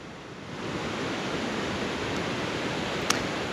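Steady, broad rushing water fills the whole stretch, like flowing water, waves and a falling cascade blended into one continuous roar, with a single tiny click near the end and no voices.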